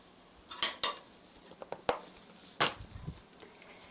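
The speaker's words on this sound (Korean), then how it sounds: "고루 섞어주세요. 이렇게 해서 고루 섞어주시고요." Fusilli pasta with a spoonful of olive oil is stirred in a bowl or pot, producing several sharp, close clinks and scrapes of a utensil at irregular intervals over quiet background, with no speech.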